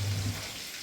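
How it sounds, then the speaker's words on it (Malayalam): Green chilies, garlic and dried red chilies fry in hot oil with curry leaves for a jackfruit-seed pickle, giving a steady close sizzle with a low rumble early on and no voices. "നമ്മുടെ പച്ചമുളകും വെളുത്തുള്ളിയും ഉണക്കമുളകും എല്ലാം കൂടി എണ്ണയിലിട്ട് മൂപ്പിച്ചോണ്ടിരിക്കണം"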